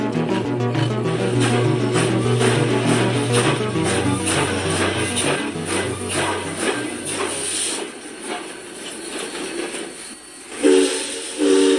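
A train runs with a continuous rumbling, clattering roar and steady tonal drone, loud and close, easing slightly toward the end where a short horn-like tone sounds; no talk.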